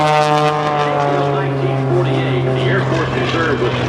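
Aerobatic airplane performing wing wags at an airshow, a sustained, loud droning engine tone with a steady pitch that wavers slightly, mixed with an announcer's voice over loudspeakers.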